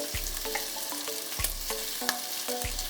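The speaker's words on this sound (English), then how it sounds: "I love that sizzle." Lamb chops sizzle steadily in a hot pan, a continuous frying hiss broken by regular utensil taps and scrapes from stirring, with no voices.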